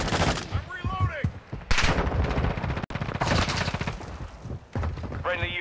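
Rapid bursts of automatic gunfire from the shooter game Modern Warfare 2 come in loud, dense volleys with short gaps, with game chatter and voices mixed in.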